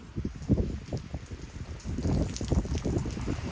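Steady rain falls and patters on surfaces at a hill site on Devarayana Durga, heavy and close throughout with no voices.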